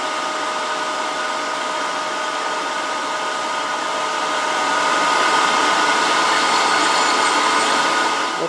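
A threading jig fed slowly by hand cuts threads on a wood lathe while turning a wooden cremation urn, a steady close whirring hum that swells slightly louder partway through, with no talk.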